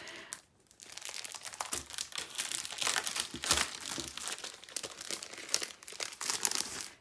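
Papers and 4x6 cards from an October scrapbooking kit rustle and crinkle as they are handled close by, a steady run of dry crackling and shuffling with a brief pause near the start.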